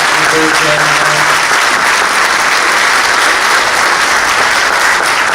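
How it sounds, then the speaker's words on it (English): Loud, sustained applause from the audience at a Texas candidate forum for Lieutenant Governor and Senate Seat 30 at Grayson College, filling the hall evenly throughout, with a faint voice audible briefly at the start. "Let's give all these gentlemen a great big round of applause."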